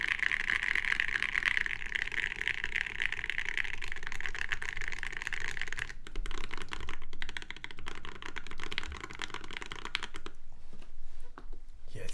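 Someone types rapidly on a keyboard with industrial alumina ceramic keycaps, producing a dense, close run of crisp clacks. The typing is steady at first, then breaks into sparser, uneven key presses.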